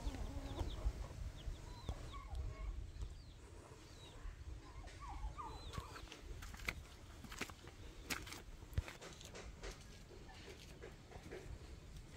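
Chickens cluck and squawk around their nests on a farm, with repeated short calls near and farther off over a busy rural background and occasional knocks.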